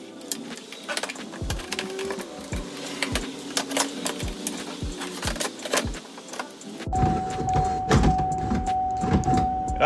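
An electric window regulator motor on a 2013 Chevy Volt runs with a whirring, buzzing hum and rattly clicks, pausing and restarting, close up with no talk.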